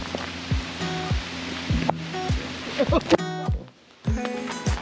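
A river in Maine, swollen after record-breaking rainfall, rushes in a continuous broadband roar close by, while people talk over it and sharp knocks and rustles cut in.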